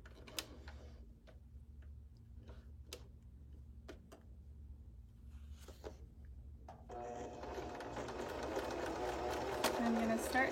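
A sewing machine stitches a zigzag along a fabric edge, starting with scattered ticks and clicks before the motor runs steadily and louder in the second half.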